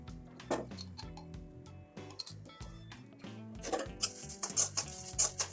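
A utensil stirs and scrapes dried prawn heads with salt and turmeric in a pan, with light clinks and taps, and a soft sizzle of frying rises toward the end.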